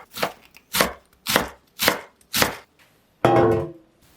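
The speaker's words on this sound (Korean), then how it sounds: "씻은 양배추는 가늘게 채 써세요." Knife finely shredding washed cabbage on a cutting board: five crisp, evenly spaced chopping strokes, close and loud, followed by a longer scraping rush, with no voices.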